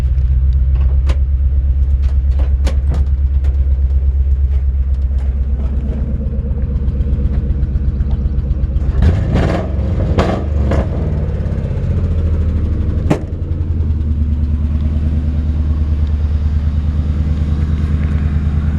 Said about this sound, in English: Got a pretty aggressive exhaust.